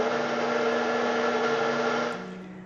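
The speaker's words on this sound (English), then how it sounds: "And then I'm going to increase the speed to medium to knead that together for about 5 minutes" Stand mixer running at medium speed while kneading pizza dough, a steady loud motor whir with even tone, dropping off and quieting near the end.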